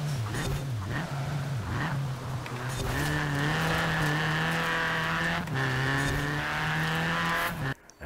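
Ford Fiesta four-cylinder engine in Forza Horizon 4 revving hard and steadily, pitch climbing and dropping through gear changes, loud and continuous with tire noise and other cars faintly behind, cutting off at the end.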